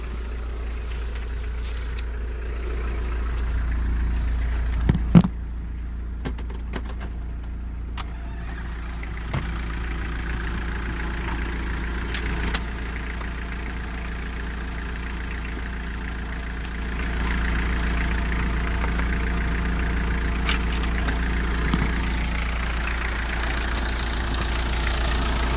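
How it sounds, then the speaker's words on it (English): A 1991 Mitsubishi Delica L300 4x4 turbo diesel idling under an open hood, a steady low diesel drone and clatter close by, with a few clicks and knocks scattered over the constant engine hum. "Show you the engine actually."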